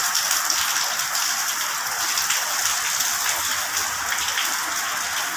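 Heavy typhoon rain pours down steadily in a dense, hissing wash of drops on surfaces, loud and unbroken throughout with no voices.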